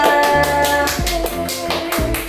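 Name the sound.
applause for Amalia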